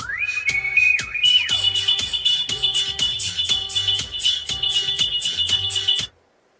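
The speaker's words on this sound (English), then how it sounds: "let's play some weird ass music" Electronic music with a bright, whistle-like synth lead and a pulsing beat plays through the Sony sound system of a Chery Tiggo 7 Pro. It stays steady and fairly loud, then cuts off abruptly near the end.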